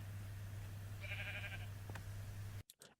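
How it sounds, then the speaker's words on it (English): A single sheep bleats once, a short wavering cry partway through. It sounds somewhat distant over a steady low hum, and a few soft knocks follow before the sound cuts out. "That was the sheep"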